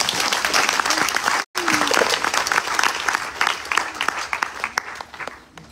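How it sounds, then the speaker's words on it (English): Audience applause at a Ganesh Chaturthi Utsav celebration for an officiating Acharya, dense steady clapping that cuts out for a split second and then resumes before thinning toward the end. "Please clap for him."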